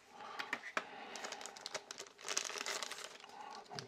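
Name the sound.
unboxing packaging of Nintendo Game & Watch Mario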